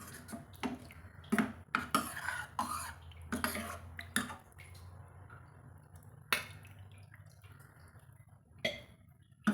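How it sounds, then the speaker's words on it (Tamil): A spoon stirs a pot of green lima bean curry, giving irregular scraping and clinking knocks against the pot, fairly close and moderately loud, with no talking. "சேர்த்துட்டு நல்லா கலந்து விட்டுறலாங்க."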